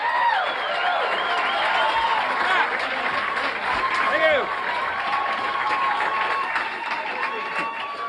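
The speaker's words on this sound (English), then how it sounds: "How about a nice round of applause?" Comedy club audience at a 1987 standup TV taping claps and cheers loudly and steadily for several seconds, with a host's voice carrying over the applause.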